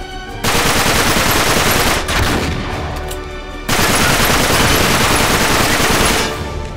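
Sustained automatic gunfire from Uncharted 3: Drake's Deception, loud and dense, broken by a short lull near the middle before the rapid shooting resumes at full intensity and fades at the end.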